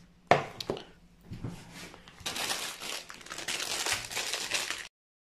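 A knife cuts leeks on a cutting board in close, crisp strokes, a few separate chops followed by a denser run of crinkly slicing that stops abruptly.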